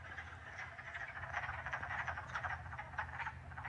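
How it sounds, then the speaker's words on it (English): A chorus of wood frogs croaking steadily, many overlapping clucking calls forming a dense, moderately distant drone. "So again, these are these wood frogs, I believe."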